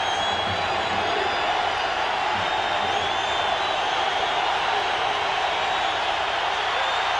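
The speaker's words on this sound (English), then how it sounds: "The crowd chanting defense." Stadium crowd at an NFL football game, Atlanta at San Francisco in 2001, a steady broad roar of many voices chanting defense, loud and sustained throughout with no clear breaks.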